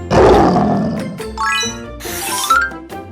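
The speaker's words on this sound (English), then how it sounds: "A lion is a big wild animal with a fluffy mane that lives in Africa and roars so loudly that it can be heard from far away." A lion's loud roar rumbles at the start and fades, followed by cheerful chimes and a rising jingle, in a kids' wild animals coloring cartoon.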